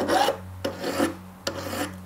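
Metal file rasping against a handmade ring, three strokes each starting with a sharp scrape and trailing off, close and alone with no talk.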